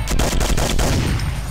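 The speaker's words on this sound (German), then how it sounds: "um rechts schnell zu schießen, müsst ihr auch schnell hintereinander die Maustaste," Rapid pistol shots from the Doom mod Project Brutality fire in a quick burst of sharp, loud reports that crowd close together with no pause.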